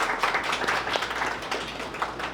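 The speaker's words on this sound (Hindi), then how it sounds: "तालियां बजा दो उनके लिए।" Audience at a business training event breaking into applause, a brief burst of clapping from a moderate crowd, close and fairly loud, with irregular claps over a few seconds.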